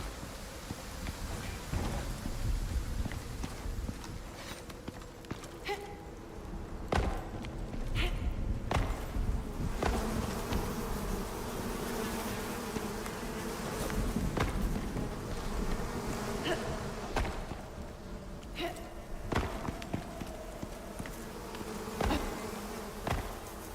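Bees buzzing in the open-world survival game Icarus, a steady droning hum that carries through the whole stretch alongside intermittent clicks and rustling game sounds.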